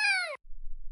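A single clear, fairly close cat meow with a slight downward pitch, lasting under half a second and followed by near silence.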